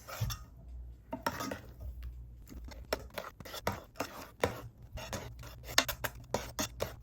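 A whisk or spoon works milk tart filling for a South African melktert in a bowl, making close, irregular clinks and scrapes against the bowl with brief pauses between strokes.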